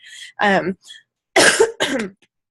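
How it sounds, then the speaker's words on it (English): A few harsh coughs close to the mic, bursts separated by short pauses. "I am having a horrible cough tonight"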